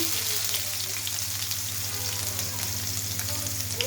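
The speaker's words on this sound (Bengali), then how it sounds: "দিয়ে দিলাম 3টে তেজপাতা, কয়েকটা গোটা জিরে ফোড়ন, আপনার পেঁয়াজ কুচি" Bay leaves, whole cumin and chopped onion frying in hot oil, a steady bright sizzle with a low hum underneath, continuous and even throughout.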